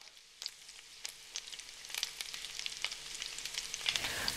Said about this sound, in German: Das Schweinefett, Flomen genannt, wird bei geringer Hitze in einer Pfanne langsam ausgelassen.